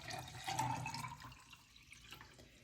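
Red cabbage dye liquid trickles and splashes into a glass mason jar for about a second, then tapers to quiet dribbles and faint room noise.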